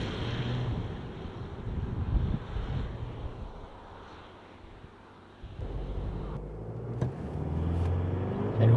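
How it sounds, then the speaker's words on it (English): A 2023 Isuzu D-Max pickup revs and pulls away hard from a standstill on a damp road, engine note building under heavy wind buffeting, dipping briefly midway before surging louder again. "Dial up some revs and we'll see how we go."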